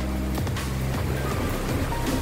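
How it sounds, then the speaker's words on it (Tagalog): Strong waves crash on a beach in Pagudpud during a stormy downpour with heavy rain and wind, a steady, loud roar of surf and rain with no clear break. "Ang lakas ng alon."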